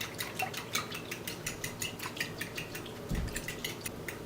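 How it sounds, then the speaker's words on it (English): A utensil clinks steadily against a bowl while dry active yeast is mixed into warm water with sugar for beignet dough, quick close taps with a soft thud near the end. "And then you just want to make sure you just mix it in really well."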